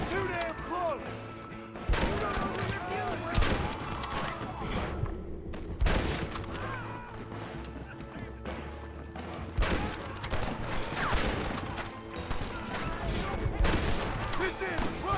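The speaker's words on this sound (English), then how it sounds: "And then we'll start shooting." Repeated gunshots and volleys ring out in the western game Red Dead Redemption, sharp cracks scattered across the stretch with rumbling game sound beneath and occasional louder bursts.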